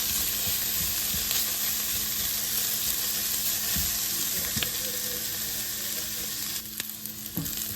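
Sliced bitter gourd fried and stirred on high flame for a theeyal sizzles in a steady hiss, with occasional clinks and scrapes of a spoon against the pan; nobody speaks.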